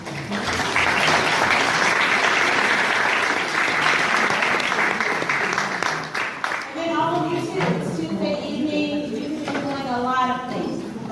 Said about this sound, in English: let's just please give ourselves a round of applause